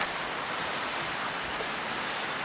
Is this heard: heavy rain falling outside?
yes